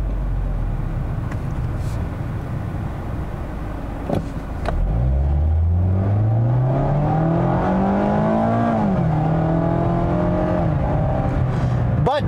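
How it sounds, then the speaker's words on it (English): A 2020 Mazda MX-5 Miata RF with a 2-liter engine and automatic transmission accelerates hard. The engine revs climb steadily with a noticeable whine, ease at the shift, then build again, heard from inside the car with no talking. "is a noticeable whine in the engine when you're really wringing out this powertrain"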